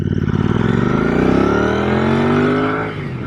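A custom Royal Enfield Interceptor 650 motorcycle accelerates hard, its engine note climbing through a loud, close rising roar before easing off near the end, with no talk over it.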